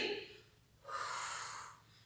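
A deep, audible inhale during a children's breathing exercise, a single breath drawn in close to the microphone for about a second, following a softer breathy sound.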